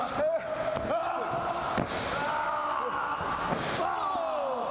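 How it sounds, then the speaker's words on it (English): A wrestler is slammed into the ring corner during an independent wrestling main event, with several sharp thuds against the ring over a lively arena background while a commentator talks throughout. "Knocking him in the corner here."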